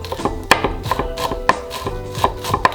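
A knife thinly slices green onion on a cutting board for lobster rolls, with sharp, close taps in a quick, slightly uneven rhythm of about a dozen cuts.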